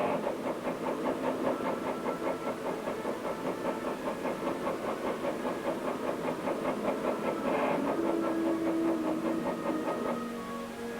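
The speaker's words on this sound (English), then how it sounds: "The tank engine is started and operated from the control room." A military tank engine runs inside a test chamber, a steady throbbing drone with a pulsing rhythm and a hissing edge, held at an even level and fading slightly at the end.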